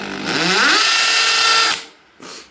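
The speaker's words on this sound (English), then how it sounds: "That's a regular old drill bit." A power drill fitted with an ordinary drill bit bores into a dent, the motor spinning up quickly to a loud, steady whine for about a second and a half, then winding down, followed by a brief second burst.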